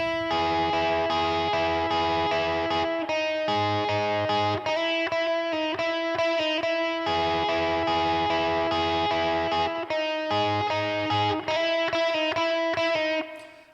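Electric guitar plays a riff through a floor effects pedal, loud distorted chords strummed in a repeating rhythmic pattern with steady sustain and no talk.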